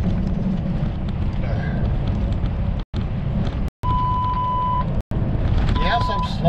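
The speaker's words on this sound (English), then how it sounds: "Even with this Kenworth longer wheelbase than I had in the Volvo, sometimes the road is still just rough as all get out." A Kenworth truck rolls along a rough road with loud, steady rumbling and rattling road noise heard from inside the cab, broken by a few brief dropouts, with a faint tonal whine partway through.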